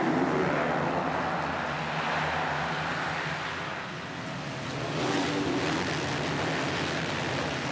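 Motocross bikes revving together at the starting gate at RedBud, heard from a distance as a loud, steady, blended engine roar that dips briefly and then swells again.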